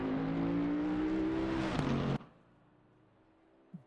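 Race car in Assetto Corsa Competizione at Mount Panorama, Bathurst, engine roaring loudly under acceleration, then downshifting and braking hard into the final corner before cutting off abruptly to near quiet.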